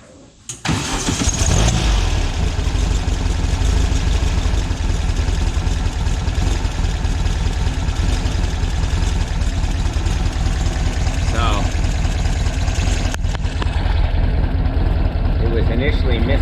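A car engine, fitted with a new distributor and freshly synchronized carburetors, cranks and catches, then idles loudly and steadily up close before a slight change near the end; a voice speaks over it.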